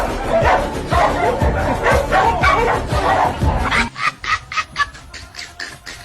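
Dogs barking and yipping in a comedy sketch, several loud close barks and whimpers, first over a busy noisy background and then as sharp separate yelps after it drops away.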